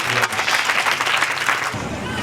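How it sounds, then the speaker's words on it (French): Loud, dense applause from an audience at a graduation ceremony for students of a health institute in Burkina Faso, sustained clapping throughout the short stretch. "Je voudrais vous demander d'applaudir très fort ce mérite."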